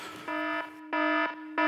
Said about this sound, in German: Ein Alarm. Ich glaube, es ist der Prophetenradar.